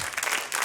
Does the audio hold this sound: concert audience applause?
yes